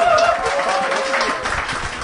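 A studio audience claps through a short burst of dense, steady applause on a Korean talk show, with some voices mixed into the clapping.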